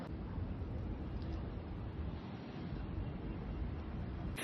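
Wind blows at a hill temple, Then Pazhani Murugan Kovil, as a steady low rumbling buffet against the microphone. It sounds close and continuous, with no voices.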